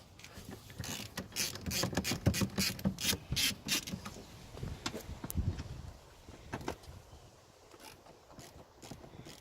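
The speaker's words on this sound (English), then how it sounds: "And then just take the two seat nuts off." A ratchet spins off seat nuts inside a BMW E36 M3, giving rapid clicking bursts in an irregular rhythm, close and fairly loud, then tapering into lighter mechanical rattles.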